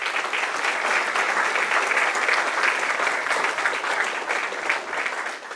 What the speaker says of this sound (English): So a big round of applause goes to them.